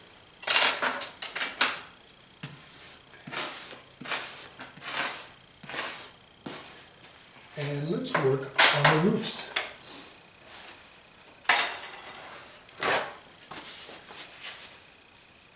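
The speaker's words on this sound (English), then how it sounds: "cleaning my palette and moving my little tools around, my little scrapers" Painting scrapers and small metal tools click and scrape against a palette as it is cleaned, a series of sharp, close taps and rattles in irregular bursts, with a brief remark from a person partway through.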